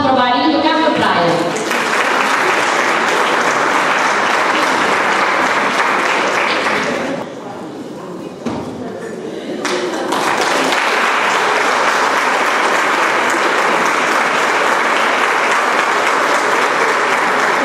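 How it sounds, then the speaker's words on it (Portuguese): Audience applause for the Bailinho do Cabo da Praia, a senior carnival dance group, loud and sustained with a dense wash of clapping that dips briefly midway before swelling again, voices mixed in. "Uma salva de palmas para o bailinho do Cabo de Praia."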